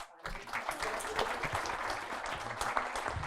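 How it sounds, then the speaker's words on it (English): Audience applauding a discussion panel at a book-related event, steady dense clapping that starts after a brief quiet moment and holds evenly, with faint voices mixed underneath. "a big round of applause for our panel"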